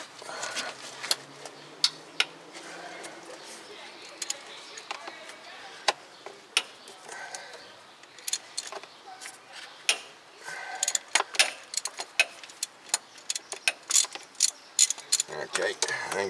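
A hand ratchet works a starter's bottom bolt loose on a Toyota Corolla, giving rapid close clicking bursts that grow denser and sharper toward the end, with no voices over them.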